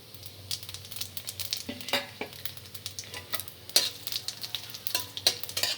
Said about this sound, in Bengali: ফোড়নগুলোকে কিন্তু কালো করে ভেজে নিতে হবে